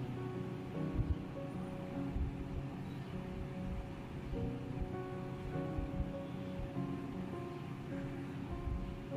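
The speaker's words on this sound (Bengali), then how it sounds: "আলুটা ভেজে নিচ্ছি।" Potatoes fry in a pan for a Bengali potato and poppy seed dish, a soft, continuous sizzle and crackle with occasional scraping knocks, steady throughout.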